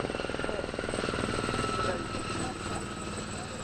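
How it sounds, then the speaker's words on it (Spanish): Helicopter over Colombia, its rotor throbbing as a fast steady thud with engine whine on top, loud and constant overhead for the whole stretch with no break. "Le bruit d'un hélicoptère réveille des souvenirs."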